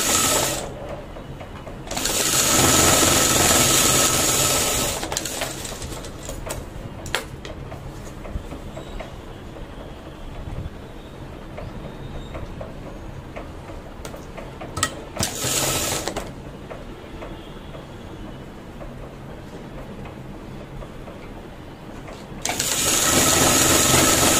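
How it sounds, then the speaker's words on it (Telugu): A sewing machine stitches a blouse in loud, rapid mechanical bursts of needle clatter separated by quieter pauses while the fabric is turned and repositioned. "ఇది కుట్టిన తర్వాత ఇలా తిప్పేసి మళ్ళీ దీని మీద కుట్టేసేస్తున్నాను."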